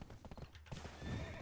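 Horse in the video game Black Desert, a neigh together with rhythmic clip-clopping hooves, brief and fairly quiet against a busy game soundscape.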